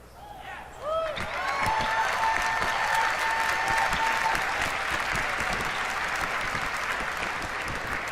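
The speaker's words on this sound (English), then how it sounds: "I hear people cheering" A large convention audience at BlizzCon 2013 breaks into sustained applause with cheers and whoops, a dense wash of clapping that swells quickly and holds steady.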